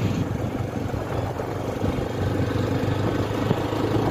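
A cold scooter engine idles on a village road in winter, a continuous close, even low rumble with no talk.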